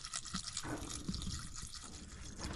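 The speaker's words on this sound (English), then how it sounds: "we're gonna pour just a little bit of water in here" Water poured in a small amount into a cooking pot aboard a sailboat, a broad splashing, gurgling wash running steadily and close for the whole moment with no talk.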